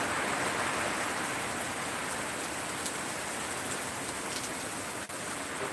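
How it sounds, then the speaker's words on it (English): Steady, dense heavy rain pouring down in a continuous broadband hiss, with no voices and one brief dip near the end. "It's bloody good to get some good rain though."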